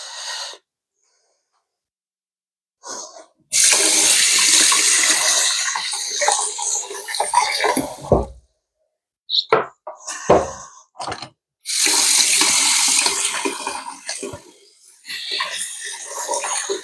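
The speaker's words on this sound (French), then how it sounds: "Mais d'abord, je vais me laver les mains." Tap water runs loudly and close as hands are washed in a home kitchen during hachis parmentier prep, in two long gushing stretches broken by pauses and short splashes.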